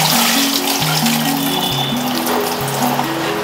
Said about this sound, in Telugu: వాటర్ వంపేస్తాం.